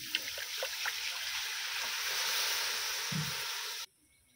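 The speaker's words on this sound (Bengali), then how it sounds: "মশলাটা যাতে না পুড়ে যায় দিয়ে দিচ্ছি অল্প একটু জল" A little water poured into chilli-powder spice paste frying in a pan, a steady broad hiss and trickle lasting several seconds before cutting off abruptly.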